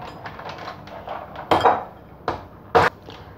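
Three egg whites go into a mixing bowl for a meringue apple milk dessert, giving a few sharp clinks and knocks against the bowl, with two or three louder bright strikes over quiet background handling.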